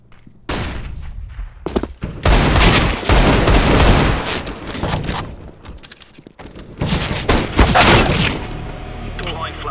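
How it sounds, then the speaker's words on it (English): Explosive bursts and gunfire from a flashbang grenade thrown in the video game Metro Exodus, heard as loud, dense volleys that start after a short quiet pause, drop off briefly around the middle and then flare up again. "Throwing flashbang."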